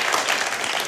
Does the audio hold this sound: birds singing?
no